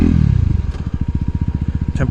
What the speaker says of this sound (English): this bike really gets up to speed quick now.